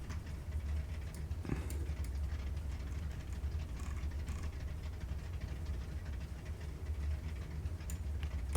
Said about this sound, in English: God, that is a really good engine sound, though